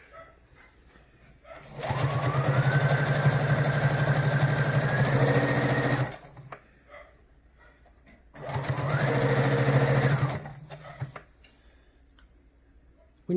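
A sewing machine stitches the edge of fabric binding on a face mask in two steady bursts of about four and three seconds, with a pause between. The motor hums close and clear, with no talking over it.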